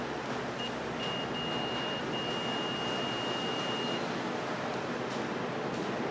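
A steady multimeter continuity beep sounds while the probes test the fuse of a Cetron microwave oven that is not heating. The thin, even tone holds for about four seconds over a constant background hiss, close and moderately loud.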